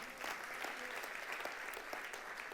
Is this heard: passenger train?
no